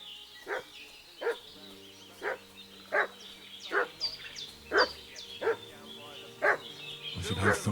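A village dog in the medieval video game Kingdom Come Deliverance 2 barks repeatedly in a steady rhythm, roughly ten sharp barks at moderate distance, with faint background ambience and a voice rising near the end.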